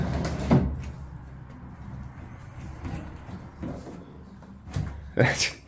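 Old sliding doors in an abandoned mansion are pushed along their tracks, giving scattered knocks and scraping thuds with a louder clunk near the end, while people talk quietly nearby.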